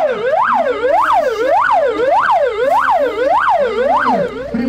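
A fire station alarm siren in the first fire unit of Arkhangelsk wails loudly in a steady, rapid up-and-down cycle, repeating about eight times with no pause.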